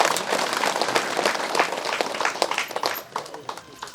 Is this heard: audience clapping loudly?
yes